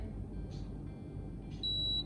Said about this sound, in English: then you will hear a beep